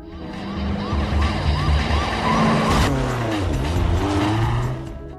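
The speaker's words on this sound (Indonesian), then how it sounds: "Brian dan Roman berusaha memacu mobilnya dengan secepat mungkin sambil menghindari kejaran polisi" Police car chase from the film 2 Fast 2 Furious: roaring engines and screeching tires fill the scene while wailing sirens sweep up and down, loud and continuous throughout.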